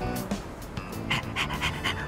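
A dog pants in the video game Persona 3 Reload, quick rhythmic breathy huffs repeating in a steady series, soft and close with no talk over them.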